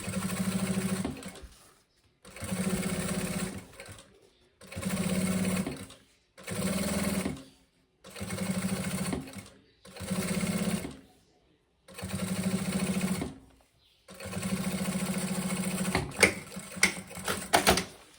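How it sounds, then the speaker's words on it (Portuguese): A sewing machine stitches the lining seam of a maternity bag in a series of close, steady whirring runs, each a second or two long, separated by short pauses, with lighter clicks near the end. "essa primeira costura aqui eu faço no ponto número 5. Faço bem na beiradinha."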